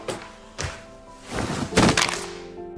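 Two people fall down together, giving several dull thuds and thumps, a soft one early and a heavier cluster later, heard close with a faint tonal background.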